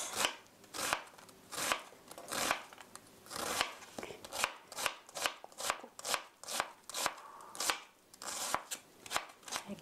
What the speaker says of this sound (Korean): 이렇게 양파 두 개는 다 썰었습니다.